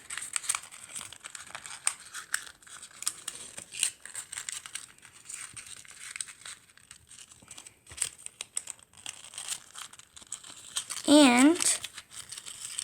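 Sheets of paper crinkle and rustle as they are folded by hand into an origami multi-pocket envelope, soft close handling noises running throughout, with a brief louder crumple near the end and a voice speaking over it.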